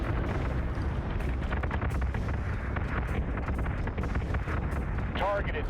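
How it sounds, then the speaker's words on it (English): Two nuclear missiles strike ships in a Battlestar Galactica Deadlock space battle, heard as a continuous rumbling roar of blasts and crackling impacts at moderate level, with a voice talking over it. "Oh, 2 nukes hit."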